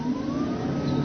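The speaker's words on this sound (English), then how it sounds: "the motor sounds like a little sports car." Electric car motor running while the car drives, a steady mid-range whir with a slowly rising tone and a low hum beneath, continuous and fairly close.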